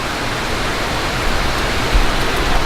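Heavy creek flow below a waterfall in Shawnee National Forest near Dutchman Lake, a steady full-spectrum rushing roar from above, constant and unbroken, with a slight surge partway through.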